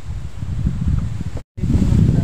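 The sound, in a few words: strong wind on a moving fishing boat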